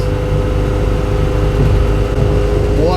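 A BMW E9 coupe with a swapped-in E34 M5 S38 straight-six engine runs with a strong, steady, close-up engine drone that climbs briefly in pitch at the end, with no talking.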